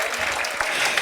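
An audience applauding enthusiastically, a dense burst of close clapping that stays steady and loud for about a second.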